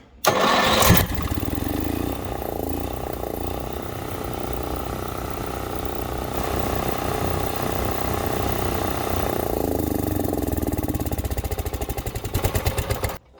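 An Onan 4000-watt RV generator engine cranks briefly, then catches and settles into a steady, loud mechanical run nearby, with a rougher, uneven patch near the end.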